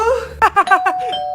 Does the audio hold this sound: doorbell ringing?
yes